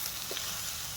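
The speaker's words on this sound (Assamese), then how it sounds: "এই গাহৰি মাংসৰ লগত ঢেকীয়া ভাজি আছোঁ" Pork dry-frying with fiddlehead ferns in a pan gives off a steady, soft frying hiss, close but quiet, with a faint stir and no speech.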